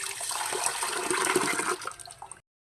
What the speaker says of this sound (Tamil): தண்ணி பிடிச்சி ஊற வச்சுக்கலாம்